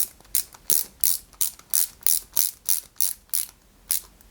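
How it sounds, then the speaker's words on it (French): Small metal screws being driven into a metal part of a Ferrari 330 P4 scale model kit with a hand screwdriver, giving about a dozen crisp, evenly spaced ratcheting clicks, close and clear with no voices. "Puisque là on visse du métal sur du métal."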